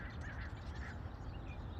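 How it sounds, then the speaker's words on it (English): Ducks call at a campground at dawn, faint scattered quacks and bird calls over a quiet, distant outdoor hush. "you can hear the sounds of nature, the ducks calling to each other, the birds chirping"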